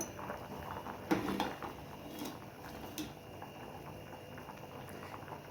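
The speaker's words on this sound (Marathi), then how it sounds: "आपली मटकीसुद्धा शिजलेली आहे" Moth beans (matki) cooked for Kolhapuri misal bubble quietly in a pot, a faint low simmer with a few metallic clicks and knocks from the pot or lid.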